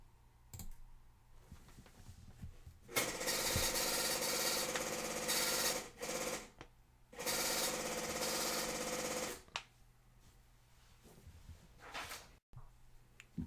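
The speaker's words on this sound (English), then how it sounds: "So the inbound ticket prints." A ticket printer at a truck scale prints an inbound scale ticket in two long buzzing, rattling bursts separated by a short pause. The bursts sound close and steady against a quiet room.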